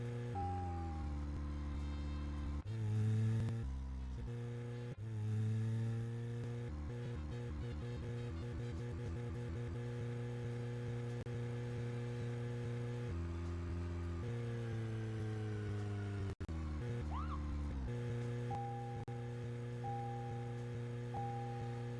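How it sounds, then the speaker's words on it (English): A car's engine drones in the video game Deadly Premonition, a steady, tonal hum that shifts pitch in steps as it revs, with a few brief bumps and clicks along the way. "I forgot how annoying the car noise was."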